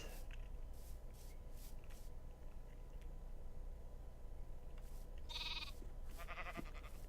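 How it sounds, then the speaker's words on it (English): Sheep bleat in the Minecraft TerraFirmaCraft game, two short bleats near the end over a steady background hum of game ambience. "Look at the cute little sheep."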